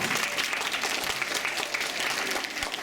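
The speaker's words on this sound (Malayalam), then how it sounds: "ഒരു കൈയടി കൊടുക്കാം." An audience at an Onam celebration claps steadily, a dense, even wash of applause from many hands that lasts throughout without a break.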